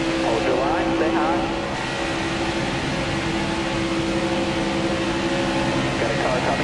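Race car engines roar steadily in NASCAR Heat 4 at Daytona International Speedway, a continuous loud drone with a second car running close alongside, under talk.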